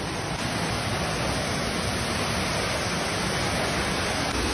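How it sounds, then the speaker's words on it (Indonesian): Waterfall in Aceh Besar, a steady broadband roar of falling water rising on the right of a hillside stair path, dense and unbroken throughout with no voices. "itu air terjun di sebelah kanan kita"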